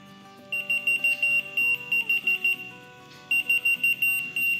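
A whistle-activated key finder keychain beeps in rapid repeated bursts of high electronic tones, a run of pulses, a brief pause, then another run, loud and close.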